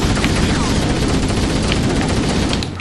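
Continuous gunfire in the first-person shooter video game Halo CE, a dense, loud barrage of rapid shots that runs steadily for nearly three seconds before easing off at the end.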